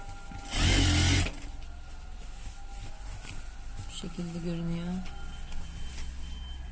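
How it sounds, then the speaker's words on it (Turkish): A sewing machine stitches the edge of a lace-trimmed quilt in a short loud burst of mechanical whirring, followed by a quieter background hum as someone talks. "Bak, ağzı kısmını dikiyorum."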